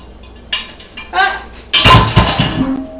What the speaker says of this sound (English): Alright, take it and flip it.